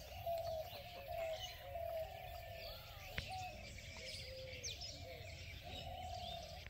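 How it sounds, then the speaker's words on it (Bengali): Birds call around a Bangladeshi village, with a dove's repeated cooing and scattered chirps carrying faintly through quiet outdoor air, and no talking. "আর পাখির ডাক দেখেন।"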